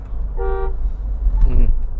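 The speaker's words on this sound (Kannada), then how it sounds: "ಹಾರನ್ನು ತುಂಬ ಲೌಡಾಗೇ ಇದೆ" A Mahindra Thar 4x4 gives one short, loud honk of its horn close by, lasting about a third of a second, followed by low engine and road rumble.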